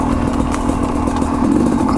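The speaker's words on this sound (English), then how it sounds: "It's in third gear." Sherco 250 SE two-stroke dirt bike engine pulling in third gear, a loud, even buzzing drone heard up close that rises slightly toward the end.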